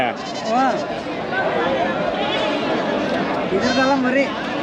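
Sheep and goats bleat repeatedly at a crowded livestock market near Magadi, their wavering calls rising over a busy background of people chattering nearby.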